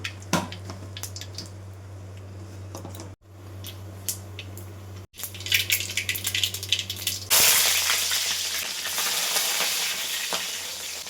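Mustard seeds, oil and ghee heat for a tempering, with scattered pops and crackles that swell into a loud dense sizzle in the last few seconds, heard up close over a low steady hum.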